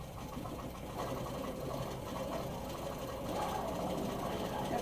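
A Handi Quilter longarm quilting machine stitches a crosshatch pattern, running as a steady, continuous mechanical hum and rapid needle rattle from start to finish.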